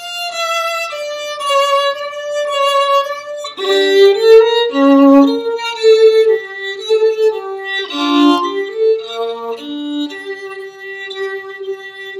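A solo violin plays a passage from Bach's Chaconne, moving from sustained single notes into richer multi-note chords. The playing is clear and close, with shifting dynamics and no voices.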